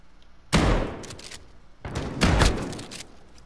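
Rainbow Six Siege gunfire: a sharp burst of shots, a pause, then two more overlapping bursts of rapid fire, close and loud, with no talking.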